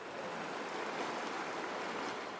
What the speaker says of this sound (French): la façon appropriée de se refroidir est de se plonger dans la rivière glaciale.